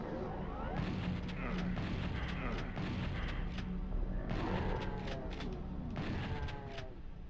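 Rapid bursts of chaingun fire in the PlayStation game Doom, dense repeated shots in several quick volleys, fairly quiet, alongside game sounds.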